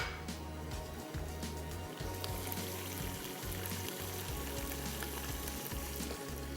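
Onion, garlic, ginger and spices frying in a pan, a soft continuous sizzle with faint crackles and low rhythmic scraping, heard close but quiet throughout.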